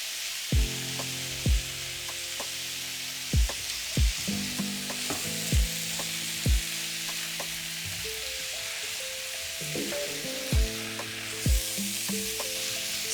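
Tomato curry mixture with beef cooking in a pan over medium heat, a steady broadband sizzle and frying hiss running throughout, with several sharp utensil clinks against the pan and a few brief tonal scrapes.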